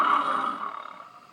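A recorded lion roar from the external speaker of a Geely Galaxy E5 car bursts out loud and close, then fades over about a second in a rough, pulsing tail.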